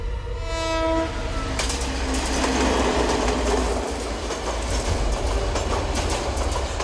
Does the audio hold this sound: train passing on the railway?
yes